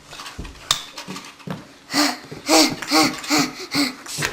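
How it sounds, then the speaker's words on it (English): A dog pants in quick, rhythmic bursts close by during play with a ball, the breaths growing louder and more regular over the last couple of seconds. "what is that weird panting"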